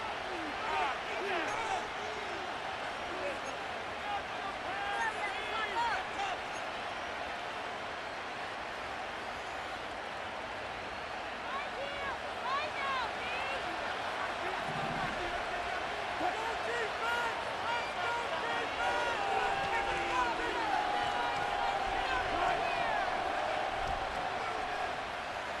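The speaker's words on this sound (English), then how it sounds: "This crowd making its presence felt early." Simulated stadium crowd in the football video game Madden 25, a steady dense roar of many voices with cheering swells running continuously throughout, and occasional thuds and a whistle-like tone sitting on top of it.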